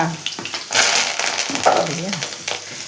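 Curry leaves crackle and spit in hot oil for poha, a short burst of bright sizzling with uneven pops, heard up close alongside faint background voice sounds.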